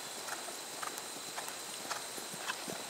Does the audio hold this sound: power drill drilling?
no